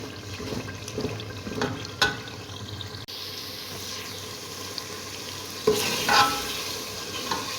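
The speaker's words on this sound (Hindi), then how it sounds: "ये देखिए अच्छे से भुनाई हो चुकी है हमारे टमाटर और प्याज की।" Tomatoes and onions being stirred and fried in a pot give a soft, steady sizzle with scraping spoon strokes and a few sharp clinks, fairly quiet and close, without any talking.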